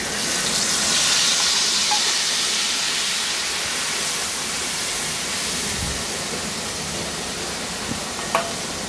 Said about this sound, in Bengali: এখন এই একই তেলে এই যে মশলাটা গুলে রাখছিলাম সেই মশলা দিয়ে আমার একটু কষায় নিতে হবে।